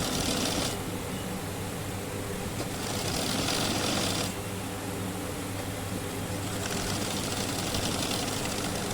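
A sewing machine runs along blouse piping in rapid, even stitching bursts, a loud close mechanical whir that stops and restarts in a few separate runs.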